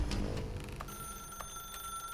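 A telephone rings in the video game The Stanley Parable, repeated bell-like trills over a low ambient hum, fairly close and clear with no talking.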